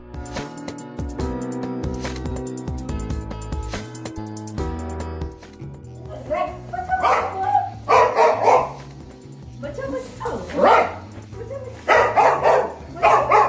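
Guard dogs bark at night in loud, repeated bursts that grow denser toward the end, following an opening stretch of steady tonal sound.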